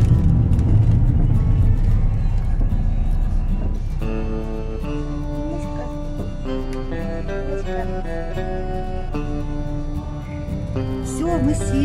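A car driving steadily with a low, constant road and engine rumble inside the cabin, with a faint tonal whine appearing partway through.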